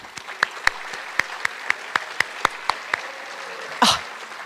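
A small group claps for eighth-grade students at a school recognition event, a sparse, fairly rhythmic string of distinct claps, ending with a brief cough or throat-clearing.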